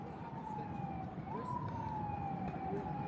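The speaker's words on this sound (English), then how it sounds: "Sirens from all directions." Police sirens wail in the distance from all directions at a Cuban protest in Miami, their pitch sliding up and down over a background of traffic and crowd noise.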